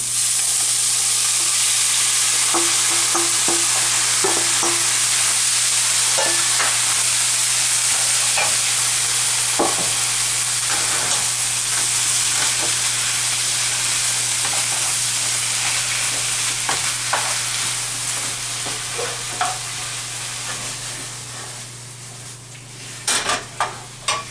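A seafood medley frying in a pan with a dense, loud, steady sizzle and hiss, broken by scattered light clicks and utensil taps that sharpen near the end as the sizzle eases.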